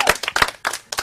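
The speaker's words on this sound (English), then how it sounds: "Clap up for yourself." A small group of dancers clap for themselves at the end of a dance class, short bursts of close, uneven claps in a few quick clusters.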